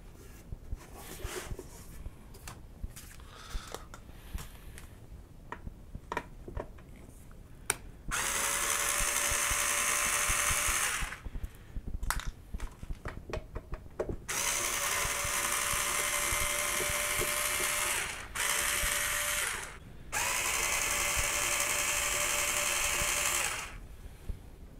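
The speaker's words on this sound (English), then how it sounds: "I do love my electric screwdriver." An electric screwdriver drives short screws into a device casing, with several loud sustained whirring runs of a few seconds each, separated by quieter clicks and handling noise.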